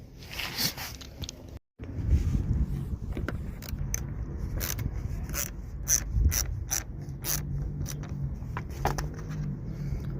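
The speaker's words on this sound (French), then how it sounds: "Donc voilà, clé classique, tournevis classique, donc on démonte ces vis" A wrench and screwdriver undo the screws on an Audi A3 grille, giving close, repeated ratcheting clicks and metallic turning. A brief dropout comes early, then a steady stream of small mechanical ticks with no speech.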